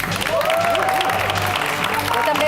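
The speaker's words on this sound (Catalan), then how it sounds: "Jo també aplaudiré" Steady applause from a studio audience on a Catalan TV election-race comedy show, dense, continuous and loud throughout with a few voices and cheers mixed in.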